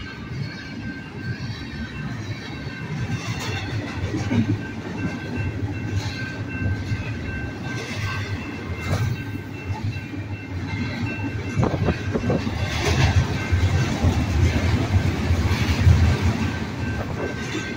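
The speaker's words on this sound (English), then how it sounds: "This is train number four today." A train rumbles past close by with steady clattering wheels and rolling noise, growing louder toward the end.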